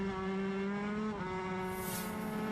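Lightweight racing motorcycles scream past at Crosby Leap during the Manx Grand Prix road race, a loud high-pitched engine whine that drops in pitch as the machines pass close by.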